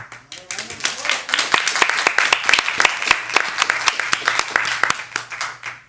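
A small crowd at a board of education meeting claps, swelling into steady applause for several seconds and then fading, with voices speaking over it.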